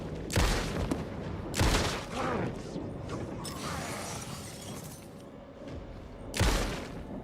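Gunshots in the Alan Wake 2 video game, a few sharp, loud, widely spaced shots over a steady dark ambient bed, with a longer gap between the later reports.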